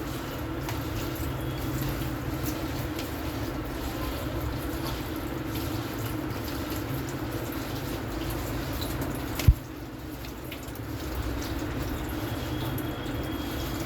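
Chopped taro leaves (kochu shak) are washed in water: a steady, close rush of running and splashing water carries on throughout, with one brief knock near the end.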